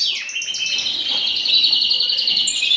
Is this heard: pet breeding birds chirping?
yes